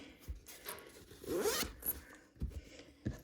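A zipper on a sewn zipper pouch pulled open in a few quick rasping strokes, close and fairly soft, with a brief pause between the pulls.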